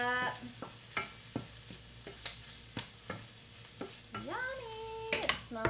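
Leftover tri tip steak sizzles as it browns in a skillet, with a soft steady fry under repeated scraping stirs and a brief whistling tone near the end.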